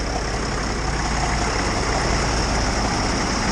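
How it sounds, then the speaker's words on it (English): A Case 1030 Comfort King tractor engine idles in the cold with a steady, dense, loud rumble. No one talks, and the sound holds even from start to finish. "Case 1030 Comfort King. It's running right now."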